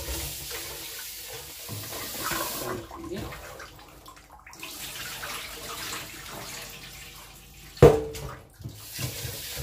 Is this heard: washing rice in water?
yes